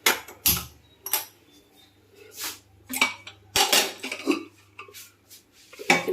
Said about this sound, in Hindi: मैं गैस ऑन करके कुकर चढ़ा देती हूँ।